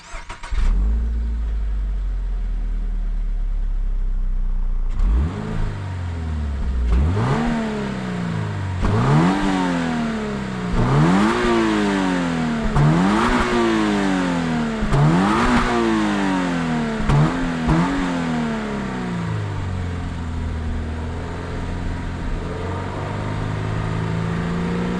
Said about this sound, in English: it can make the engine sound a bit sort of rough and a bit highly strung